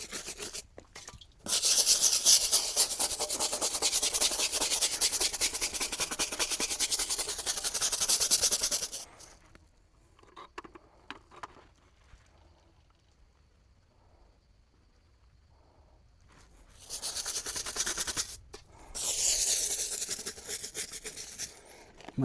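A stiff brush scrubs vigorously over a Michelin 24H Series racing tire, producing loud, fast rasping strokes in two long bouts separated by a quieter stretch of light handling noises.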